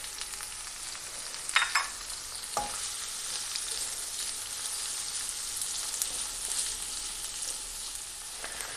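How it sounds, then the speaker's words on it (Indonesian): Garlic and onion frying in a pan for a beef and bell pepper dish, a steady close sizzle throughout with a few brief clinks and stirring knocks of a utensil, no voices. "kita tumis bawang putihnya"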